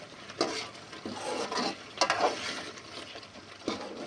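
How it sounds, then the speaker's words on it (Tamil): A spoon scrapes and stirs through garlic kuzhambu bubbling in a pan, with soft sizzling under a few distinct scraping strokes at an uneven rhythm. "அடி பிடிக்காத அளவுக்கு அப்படியே கிளறி விட்டுகிட்டே இருங்க"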